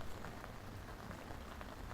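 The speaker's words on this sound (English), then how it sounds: "Next day, we got rain and more clouds." Rain falls outdoors in a soft, even, steady hiss, quiet and unbroken, with no voices.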